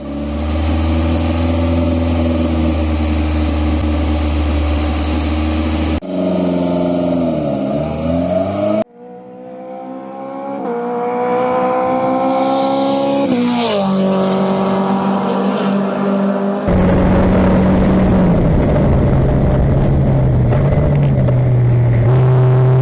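A race car laps the Spa circuit during a 25-hour endurance race, its engine roaring loud and close from inside the cockpit, rising and falling through gear changes with one brief lift off the throttle before it pulls hard again.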